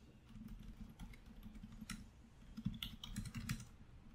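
Close, light typing on a computer keyboard, a quick irregular run of soft key taps with a few louder clacks toward the end.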